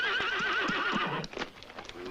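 Horses whinny loudly and close by, a long rising-and-falling neigh followed by a few hoof clip-clops as the horses are readied in an action film.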